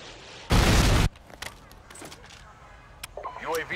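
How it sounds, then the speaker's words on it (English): A Predator missile explodes in a first-person shooter game, one loud broad blast lasting about half a second, followed by quieter scattered game effects and brief chatter. "Predator missile incoming."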